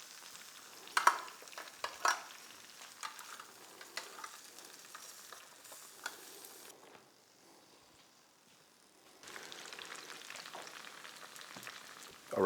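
Oxtail and mirepoix vegetables searing in a pan make a soft, crackling sizzle with occasional stirring clatters. It drops almost to silence for a couple of seconds, then resumes.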